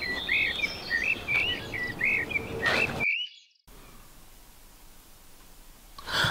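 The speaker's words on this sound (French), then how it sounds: "Un gros oiseau! Un gros oiseau!" Birds chirp and call repeatedly in a French film scene, bright tweets over a faint insect-like hiss, then a sudden cut to near silence before the ambience returns.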